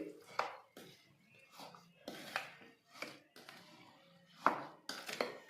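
Garlic pickle being stirred with oil, a spoon scraping and knocking against the bowl in quiet, irregular bursts roughly every half second, close up.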